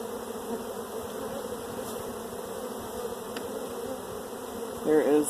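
Honey bees buzzing steadily around an open hive during an inspection, a dense continuous drone close by, with a brief voice near the end.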